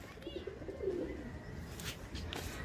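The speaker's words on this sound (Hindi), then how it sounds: "ये आया एक कबूतर बैठा" A pigeon coos softly in a low, rolling phrase outdoors near a railway line, fairly faint against steady background noise.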